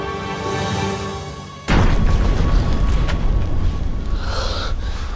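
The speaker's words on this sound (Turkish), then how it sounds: "Patladı. Vallahi patladı." A loud explosion bursts in abruptly after a tense, steady hum, followed by a sustained roaring rumble that stays loud to the end.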